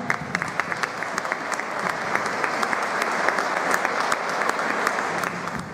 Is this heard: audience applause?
yes